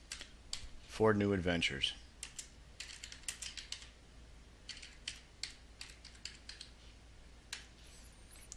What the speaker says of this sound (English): In this example, I'm going to type in